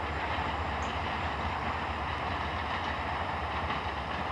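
A VIA Rail passenger train with a P42 locomotive rolls past on the line, giving a steady, continuous rumble and rail noise at moderate distance with no pauses.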